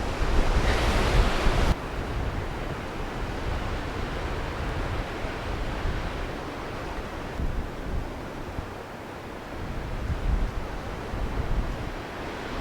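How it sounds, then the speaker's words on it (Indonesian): Strong wind roars continuously across the microphone near the summit of Mount Bismo, a dense buffeting rush with gusts rising and falling, no voices present. "tapi itu sebenarnya angin, bukan hujan ya."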